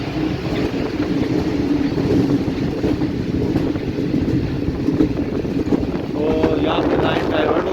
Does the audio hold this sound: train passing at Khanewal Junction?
yes